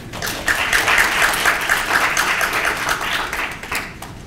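Audience applause welcoming a speaker at a disability policy forum, a steady wash of many hands clapping in a hall, sustained and fairly even before easing off toward the end.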